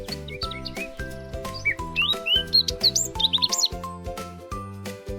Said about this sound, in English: N is for nightingale.